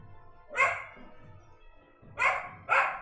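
A dog barks three times, loud and close, one bark and then a quick pair, over quiet room tone during a live-streamed game session.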